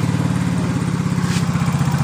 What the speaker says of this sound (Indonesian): Hidup, motor hidup dengan normalnya teman-teman